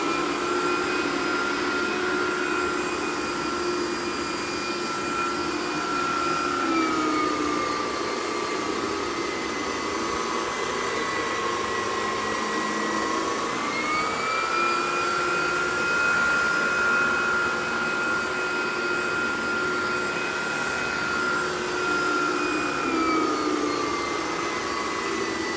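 Steady whine of a Vacuflo central vacuum driving a turbo power nozzle, loud and continuous, with the pitch dipping and rising as the nozzle is pushed back and forth.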